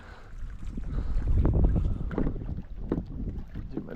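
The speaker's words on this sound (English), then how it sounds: "The wind's definitely picked up." Strong wind buffets a kayak on a bay in Florida, a continuous rough roar of gusts battering the microphone with water lapping underneath, loud and close throughout.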